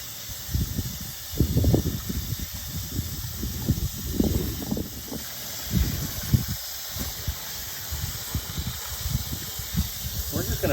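Hot water running into a container to melt beeswax after a honey extraction, a steady hiss with bursts of splashing gurgle, close and continuous, with a person talking over it.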